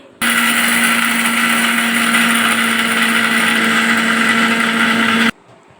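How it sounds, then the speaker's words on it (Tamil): A kitchen mixer grinder powders roasted lentils with their skins still on, a steady loud whirring drone that starts abruptly, holds unchanged for about five seconds, then cuts off. "வறுத்து வச்ச கல்கா பருப்பு அப்படியே தோலோட போட்டு மிக்சியில் போட்டு நம்ம பவுடர் பண்ணி அரைச்சிக்கலாம்"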